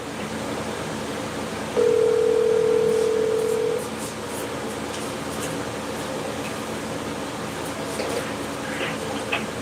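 A telephone line plays a steady, loud single tone for about two seconds, then stops. A constant background hum continues throughout, like air conditioning.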